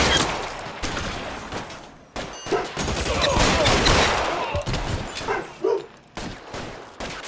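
Gunfire in the crime video game L.A. Noire, a dense run of shots and bursts through most of the stretch, loud and close, with brief gaps and a mixed game soundscape around it.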